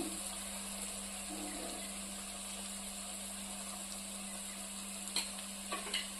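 Turmeric and chili powder are stirred into hot oil for a cauliflower tomato curry, producing a faint, steady frying hiss with a few sharp scraping clicks near the end.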